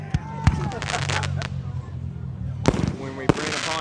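Canada Day fireworks thump in a few sharp booms at the start and near the end, with crackling between, under an excited voice talking over them.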